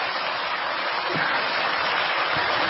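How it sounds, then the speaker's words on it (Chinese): Audience applause at a Buddhist Dharma assembly in Penang, Malaysia: a steady, dense wash of clapping from a large crowd that holds at an even level for the whole stretch, with no voices over it. "鼓掌。"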